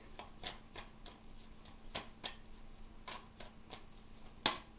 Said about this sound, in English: We will shuffle until Spirit has the one that they want me to take.